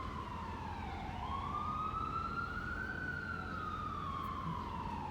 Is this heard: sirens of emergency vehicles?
yes